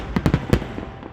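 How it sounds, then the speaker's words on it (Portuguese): Fireworks bursting over Berlin at a German Unity Day celebration, a rapid cluster of four or five sharp booming pops heard at a distance, with a fading rumble afterward. "Fogos de artifício para todos e por todos."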